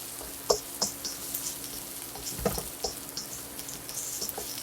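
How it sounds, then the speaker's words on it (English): Steady sizzling and crackling of garlic stir-frying in a hot wok, with scattered louder pops and scraping stirs, no voices. "anytime you cook them with a wok or stir frying, woks get hot, they cook fast"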